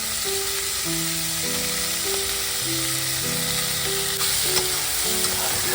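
Chopped bok choy leaves sizzle steadily in a hot pan, a continuous frying hiss running beneath background music.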